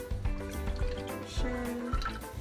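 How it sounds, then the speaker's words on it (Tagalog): Two cans of coconut milk poured into a pan over medium heat, a soft liquid gurgle and dripping splash running steadily and close for a couple of seconds. "So, una natin ilalagay yung ating 2 cans of coconut milk."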